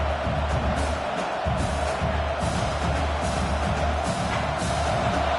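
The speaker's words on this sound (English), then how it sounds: "This crowd trying to make life miserable for this offense." Stadium crowd at a football game roars as a steady, dense wash of noise, with swelling peaks and cheers rising and falling throughout.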